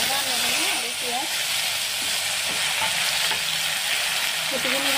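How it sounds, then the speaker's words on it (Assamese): Grated ginger, garlic, onion and whole spices such as panch phoron fry in hot oil in a wok for egg and potato dum. A loud, continuous sizzle and hiss fills the clip while a person talks over it. "অলপখিনি পাঁচফোৰণ আৰু এতিয়া দি আছোঁ গ্ৰেট কৰি থোৱা আদা, নহৰু আৰু পিঁয়াজ।"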